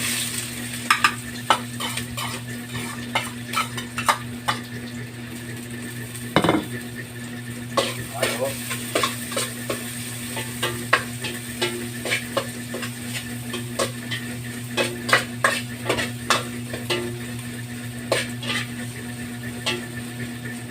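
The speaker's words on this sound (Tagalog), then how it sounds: "umainit na yung mantika natin. Lagyan natin ng sabay-sabay ng ating ah, bawang, sibuyas, luya" Garlic, onion and ginger sauté in hot oil for dinuguan, a steady sizzle punctuated by frequent sharp clinks and scrapes of a metal spatula against the pan, close and continuous throughout.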